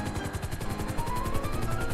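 Helicopter in the video game GTA Online, a steady rhythmic rotor chop that stays loud and close throughout with a constant engine drone beneath it.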